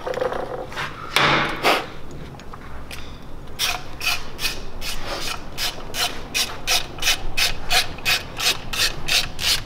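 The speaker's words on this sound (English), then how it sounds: "I'll pull out the broken reed valve, which is that getting replaced with that" Metal parts of an air compressor being worked on by hand while a broken reed valve is removed, giving a steady run of short scraping, ratcheting strokes in an even rhythm, close and moderately loud, with a few scattered clicks early on.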